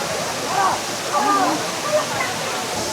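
Batlag Falls, a muddy-water waterfall crowded with bathers, gives a steady, loud broadband roar throughout, with people talking faintly over it.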